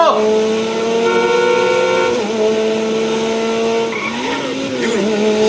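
Car engine in the video game GTA 5 revs with steady rising and falling tones, with tire skids and squeals as the car races and corners, loud and continuous throughout.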